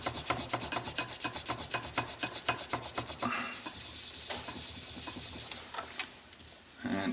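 A freshly sharpened blade is wiped to remove burrs, making close rhythmic rubbing strokes that give way to softer, irregular scraping.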